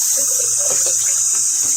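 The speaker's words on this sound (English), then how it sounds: "I'll just kind of rinse it off." Tap water runs steadily as a plastic hamster cage hideout is rinsed under a bathroom faucet, a close, continuous splashing wash with slight shifts as the flow hits the object.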